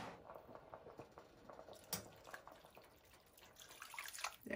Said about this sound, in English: so I added in a total of 9 cups of water